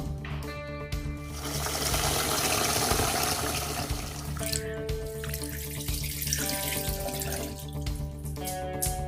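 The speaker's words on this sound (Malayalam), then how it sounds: "ഇത് നമുക്ക് നല്ലവണ്ണം 3 പ്രാവശ്യം കഴുകിയിട്ട് ഒരു 6 മണിക്കൂർ വെള്ളത്തിലിട്ട് വയ്ക്കണം." Super fine raw white rice being washed in water in a Kerala home kitchen, a steady rush of running tap water and sloshing that fills the whole clip, loud and close, with no talk.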